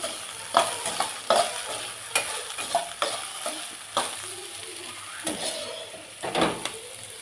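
Okra and egg stir-fry sizzles in a pan while a utensil stirs it, with repeated scraping clicks against the metal over a soft steady frying hiss and no voices.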